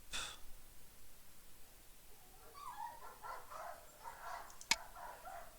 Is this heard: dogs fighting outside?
yes